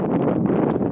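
Wind buffets a microphone outdoors in the countryside, a short burst of low, rumbling gusty noise with no voices.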